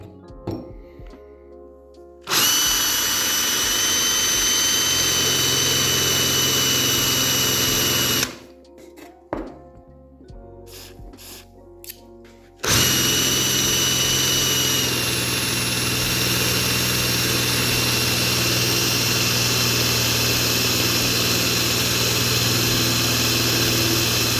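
A power drill whines loudly through metal in two long continuous runs, separated by a brief pause with quiet clicks and handling noise.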